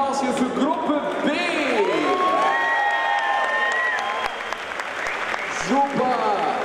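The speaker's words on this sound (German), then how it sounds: "riesigen Applaus hier für Gruppe B" A large convention crowd at a Gamescom 2014 Blizzard costume contest applauds a group of contestants with steady clapping, loud cheers and rising whoops, the roar sustained and dense throughout before briefly dipping and swelling again near the end.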